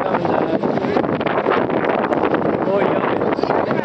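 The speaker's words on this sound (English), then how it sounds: "it's a little windy today" Strong wind buffets the microphone in a constant rumbling roar at an outdoor Veterans Day parade in St. James, New York, with faint voices in the background.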